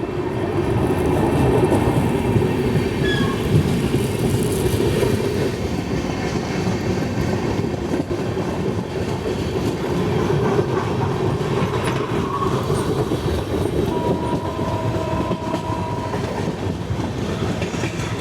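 Hazur Sahib Nanded–Hadapsar Express number 17630 runs on rails on the Nanded to Pune route. A loud, continuous rumble and clatter of wheels on track carries on throughout, with a faint squeal late on.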